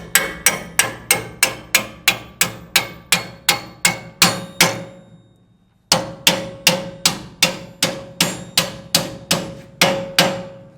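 A hammer striking a truck lift, loud ringing metallic blows in a steady rhythm, about a dozen, a short pause, then another dozen, with no talking.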